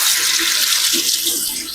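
Running tap water pours steadily into a sink as jumbo russet potatoes with skins on are washed by hand, a loud close rush with faint rubbing under the flow.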